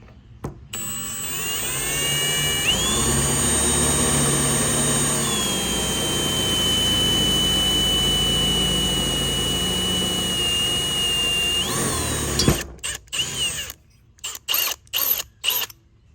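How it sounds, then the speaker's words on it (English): A power drill with a 9/64 bit whines steadily for about ten seconds, pitch rising as it bites in, then stops with a few short bursts of drilling at the end. "I'm gonna drill that one out there with this 9/64 drill bit."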